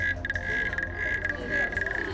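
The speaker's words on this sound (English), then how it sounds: "Go nose to nose with frogs from all over the world in colors you've never imagined." Frogs croaking at an aquarium exhibit of frogs from around the world, a dense steady chorus of trilling calls with a sustained high tone running throughout.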